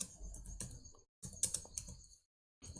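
Quick bursts of clicking keystrokes on a computer keyboard, close and fairly quiet, broken by a couple of brief pauses.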